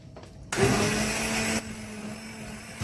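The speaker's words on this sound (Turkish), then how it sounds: "ocağı kapatıyorum ve blenderdan iyice çekiyorum" A blender whirs loudly for about a second while pureeing roasted pepper soup, a dense motor roar that cuts off abruptly, leaving a quieter lingering hum.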